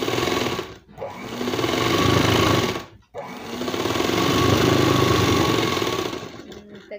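A sewing machine runs a fast, rattling stitch along the edge of a churidar, loud and close, in two long runs separated by brief pauses.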